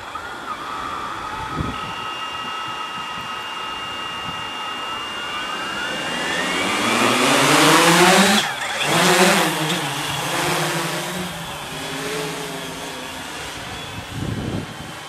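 A MikroKopter multicopter drone flies past, its motor whine rising in pitch as it approaches, peaking loudly at close range, then dropping and fading as it moves away over a steady outdoor background.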